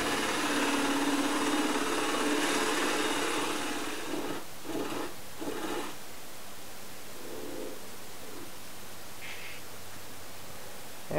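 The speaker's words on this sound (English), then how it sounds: "put it on the lathe, do some more work" A wood lathe spins as a reground Harbor Freight box scraper turns a lidded rook box, a steady broadband whir and scrape for about four seconds, then brief cuts before the lathe quiets to a low hum.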